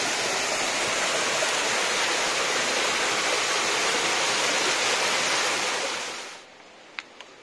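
A waterfall pouring into pools along a mountain trail near Bečići, Montenegro, gives a steady, loud, close rushing roar that fades out near the end, leaving a few faint clicks.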